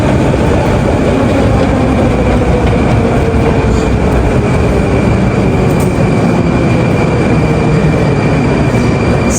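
Moscow metro train rumbles loudly and continuously up close, its wheels clattering along the rails with a faint metallic squeal riding on top.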